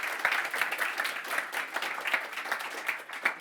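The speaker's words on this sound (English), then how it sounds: "let's support this with a round of applause," A conference audience claps in a steady round of applause at a tech talk, dense and even throughout with scattered sharper claps near the microphone and no speech.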